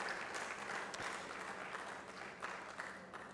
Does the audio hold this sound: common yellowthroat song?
no